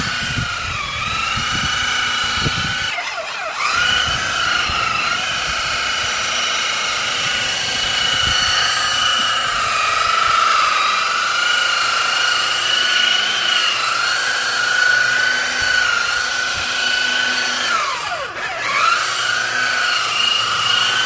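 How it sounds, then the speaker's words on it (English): A power buffer polishes a vehicle's painted surface with 3M heavy duty rubbing compound after wet sanding, a steady high whine that dips briefly twice when the tool is lifted or loaded, loud and close with no speech. "started the buffing on this here"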